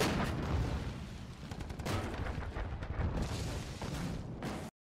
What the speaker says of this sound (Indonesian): Tembakan meriam memulai serangan mereka dan diikuti oleh tembakan artileri